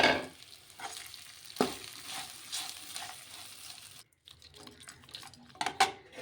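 Cooked rice being tossed into pulihora seasoning in a hot pan, with a spoon scraping and stirring over a soft sizzle and frying crackle in irregular strokes, close and fairly quiet.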